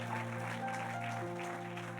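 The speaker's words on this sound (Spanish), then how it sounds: "¿Cuántos le dan un aplauso a la palabra del Señor?" Church congregation applauding after a sermon, a steady dense wash of clapping over a sustained musical tone, continuous and moderately loud for the whole stretch.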